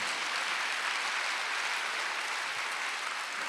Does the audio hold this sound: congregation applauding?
yes